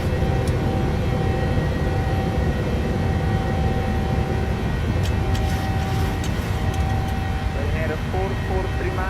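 Steady broadband roar of airliner engines during the climb after takeoff in Microsoft Flight Simulator, a dense continuous rumble with faint tonal whine throughout and a few brief clicks near the end.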